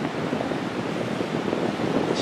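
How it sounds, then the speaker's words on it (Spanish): Steady broadband roar of ocean surf and wind on the open sea off a boat, continuous and fairly loud with no break, no voices over it. "Hay que esperar a que baje el oleaje."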